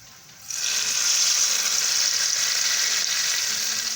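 Cumin seeds and red chillies hit hot oil in a pan and burst into a loud, steady sizzle that holds evenly, close by and with no talk.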